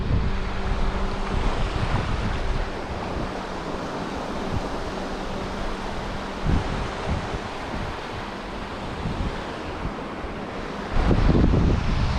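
Wind gusting over an exposed ocean reef while out casting lures, a steady loud roar with surf washing underneath and buffeting microphone rumble that swells again near the end.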